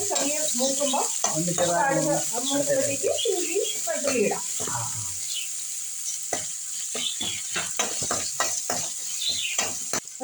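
Crushed shallots hit hot oil with fried chili in a pan for Kerala-style nadan rasam, giving a bright continuous sizzle with stirring scrapes. Someone talks over the first half, then the frying carries on alone.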